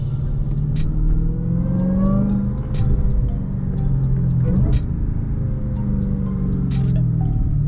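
A Dodge Hellcat with paddle shifters rumbles loudly and steadily up close, the engine note rising and easing in a deep sustained drone with scattered light clicks and ticks over it.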